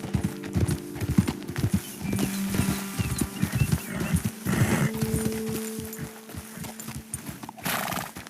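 Horse hooves clip-clop steadily in Red Dead Redemption 2 gameplay, loud and close, with a horse whinnying partway through and a dog-like bark mixed in.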